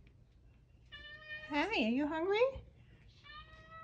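A pet cat begging for dinner lets out one long, loud, wavering meow up close, bracketed by a woman's gentle speech before and after.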